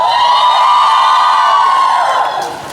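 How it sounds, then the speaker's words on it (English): A large live audience at a Bollywood event cheers and screams loudly together, a sustained high-pitched roar of mostly girls' voices that holds for over two seconds and then begins to fade. "Let me hear how loud you can cheer for yourselves."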